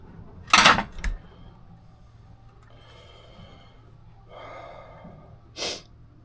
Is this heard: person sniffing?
yes